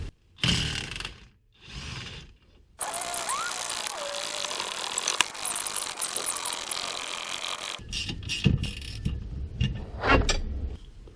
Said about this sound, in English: The shock is easy because we just got to unbolt that nut, pull out that bolt, unbolt the two bolts up top, and then pull it out.